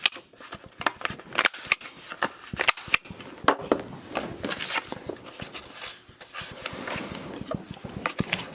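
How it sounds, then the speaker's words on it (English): A corner punch clicks sharply again and again as it rounds the corners of black cardstock. The snaps come in irregular bursts, close up and fairly loud, with paper rustling and handling between them and no voices. "So I am just going to round the corners to be true to the sketch there."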